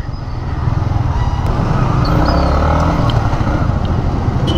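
A 2021 Yamaha MT-15 motorcycle riding through the city streets of Puerto Princesa, Palawan, its engine droning steadily and loudly up close with wind rush, no talk over it.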